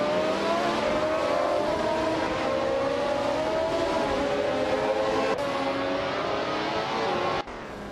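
Race car engines scream in a racing video game, a continuous high-revving whine with pitch shifting slightly as the cars accelerate, loud and sustained before dropping off abruptly near the end.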